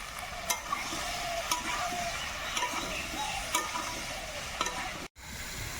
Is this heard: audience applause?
no